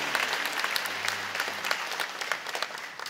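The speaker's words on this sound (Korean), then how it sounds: "여러분께 박수로 환영하시죠." A church congregation at a Sunday worship service applauds in welcome, a steady, fairly soft patter of many hands that thins out slightly toward the end.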